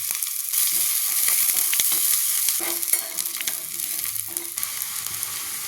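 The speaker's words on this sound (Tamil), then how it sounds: "ஒரு 2 கரண்டி தேங்காய் எண்ணெய், கடுகு ஒரு 2 போட்டுக்குவோம், வெங்காயம் போட்டுக்குவோம், இஞ்சி போட்டுக்குவோம்" Mustard seeds, chopped onion and ginger fry and crackle in about two spoonfuls of hot coconut oil while being stirred, a steady close sizzle with scattered pops and no voices.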